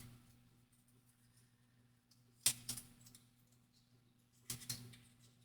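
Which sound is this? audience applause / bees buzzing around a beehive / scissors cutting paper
scissors cutting paper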